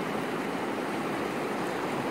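Water sloshes in a gold pan during gold panning, a steady close rushing and swishing wash that runs unbroken through the whole stretch with no voices.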